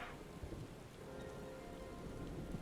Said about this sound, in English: I love how it's raining and storming in the cutscene right now.